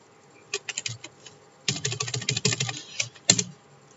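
Typing text on a computer keyboard in a WordPress dashboard: a few separate key taps, then a dense run of quick clicks and a final clack, close and quiet with no voice.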